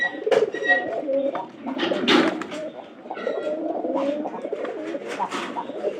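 Pigeons cooing close by, several overlapping low, throaty coos repeating in rolling bursts with faint wing or body rustles in between.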